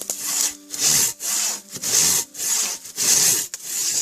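A Silky Katanaboy 650 folding saw cuts through a wooden log in fast, rhythmic strokes, about five loud rasping pulls with brief gaps between them, close up and with no talk.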